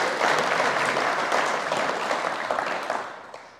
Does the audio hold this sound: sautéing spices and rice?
no